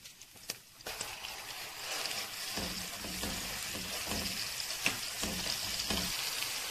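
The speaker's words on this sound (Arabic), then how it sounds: "هون اخواتي بعد ما ذابت عنا الدهنة بسم الله نحط الدجاج" Chicken pieces frying in melted fat and vegetable oil, a steady broadband sizzle rising after a quiet start, with repeated soft knocks and crackles as pieces settle and shift in the pan, close and moderately loud.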